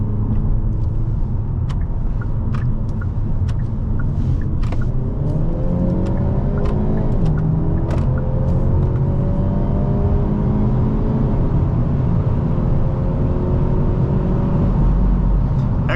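A 2025 Hyundai Elantra N with a dual-clutch transmission accelerates hard from inside the cabin, its loud engine climbing through rising sweeps and snapping through several quick upshifts, with a steady drone and road rumble underneath.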